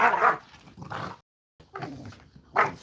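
Dogs bark close by in short bursts, a couple of sharp barks, a brief silent pause, then more barking.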